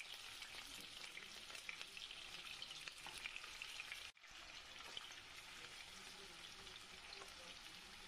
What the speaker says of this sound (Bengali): এবার এই মাংসর পিসগুলো উল্টিয়ে পাল্টিয়ে ভালো করে ভেজে নেব।